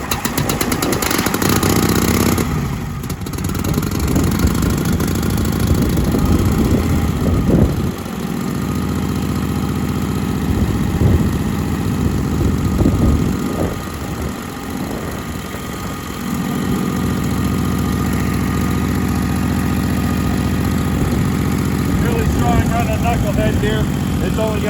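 A 1945 Harley-Davidson FL Knucklehead motorcycle engine running steadily and loud and close, a continuous low rumble with a few swells in throttle and a brief dip partway through.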